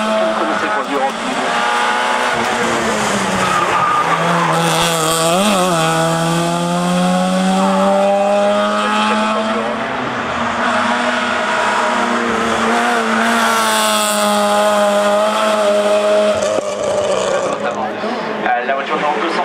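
Race car at the Turckheim hill climb screaming loudly up through the gears, engine pitch rising and falling continuously, under a commentator's voice.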